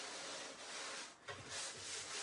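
Sandpaper rubs steadily across a hard surface, giving a close, faint, continuous hissing scrape with a brief dip partway through.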